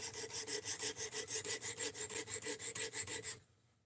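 Knife blade being reprofiled on a Work Sharp RMX sharpener, a rhythmic rasping scrape repeated in even strokes about every quarter second, close and steady, stopping abruptly near the end.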